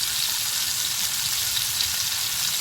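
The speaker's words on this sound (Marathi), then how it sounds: "मसाला छान परतून घ्यायचा आहे आपल्याला" Spice powders, chili powder, turmeric, garam masala and coriander, sizzle and fry steadily in a hot pan while being sautéed for a shevla vegetable dish, a continuous close crackle with no talk.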